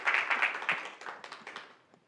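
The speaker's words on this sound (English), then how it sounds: "Please give him a round of applause." Chess audience at a women's blitz tournament in Tokyo claps for the Japanese Chess Federation president, a brief round of applause that starts strong and thins into a few scattered claps before fading out.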